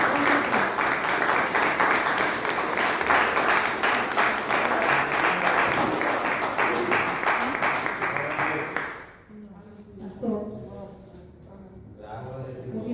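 A congregation claps at a church worship service: sustained, rhythmic applause for about nine seconds, then it stops and someone speaks.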